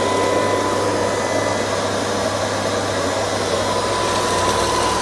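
An LG R9 robot vacuum cleaner runs nearby with a loud, steady motor whine and airy suction roar that holds constant throughout without any talking.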